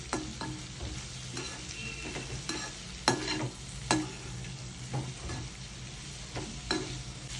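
Onions and bitter gourd fry in a pan with a steady sizzle, broken every second or so by scraping stirs and a few sharper clacks of a spatula on the pan.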